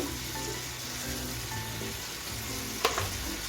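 Chopped tomatoes fry in yogurt and oil for chicken tawa kebab with a quiet, even crackle, and a single sharp clatter stands out near the end.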